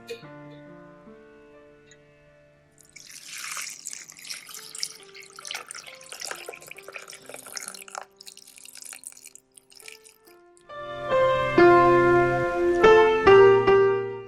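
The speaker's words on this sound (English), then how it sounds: "So we're going to put water up a little from that level." Water pours onto clean rose petals in a pot for herbal tea, a steady splashing trickle close by that runs for several seconds before louder clattering kitchen sounds take over near the end.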